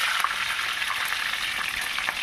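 Curry leaves crackling in hot coconut oil, with a steady, dense sizzle and spatter that holds loud and close throughout, with no voices.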